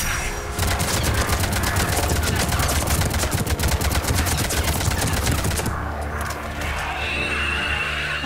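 Rapid, sustained gunfire from the video game Mass Effect 3 rattles loud and dense for about five seconds, then gives way to a lower rumbling tail.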